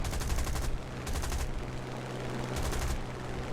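Machine guns of a Hurricane Mk IIB fighter fire in the War Thunder game, rattling in three short rapid bursts over a steady engine drone.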